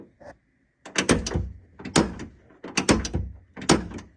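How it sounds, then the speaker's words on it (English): Door lock on a Toyota MK3 Supra with a sticky lower linkage, worked repeatedly: a series of close mechanical clacks and rattling clunks in uneven bursts, with short quiet gaps between. "try to lock and unlock while you're watching the linkage inside the door"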